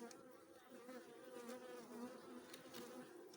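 Honey bees buzzing around an open hive during a September inspection of a colony weakened by mites, a continuous faint, wavering drone of many insects with occasional louder passes near by.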